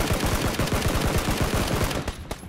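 Rapid automatic gunfire in the battle-royale game PUBG, a dense string of loud close bursts that runs almost nonstop before tapering off near the end, with no talk over it.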